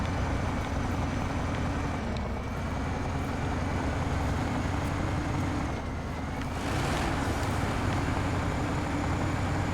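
A plow truck's engine in a snow plowing video game drones steadily and loudly throughout, a constant low rumble with slight shifts in tone and no talking.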